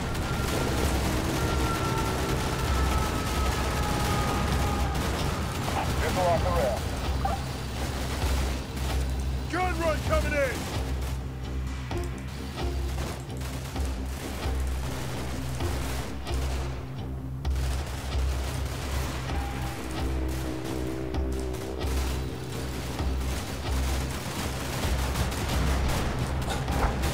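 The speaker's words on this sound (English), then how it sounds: "There's a machine gun here." Machine gun fire in the Combat Mission war game during a UK special forces embassy mission: continuous dense battle noise with rattling bursts and deep rumbling booms, loud throughout.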